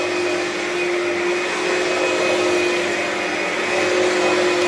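An Oreck Magnesium vacuum cleaner running at its high speed setting gives a loud, steady motor whine with a constant airflow rush, close up and uninterrupted, with no voices.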